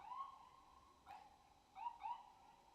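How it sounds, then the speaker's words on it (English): Ambulance sirens wail faintly in the distance with a wavering tone, fading in and out over a quiet background. "Now these damn ambulances are coming."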